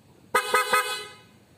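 A loud aftermarket horn on a Honda ADV 160 scooter blares three quick, sharp honks in a row, the last one ringing out and fading.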